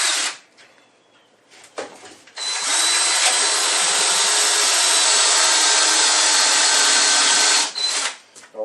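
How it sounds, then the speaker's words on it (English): A power drill bores out a nipple on a workpiece clamped in a JawHorse, stepping up through bit sizes. After a few short bursts, one loud, steady high whine runs for about five seconds, then stops. "if you're going to drill out the nipple, step it"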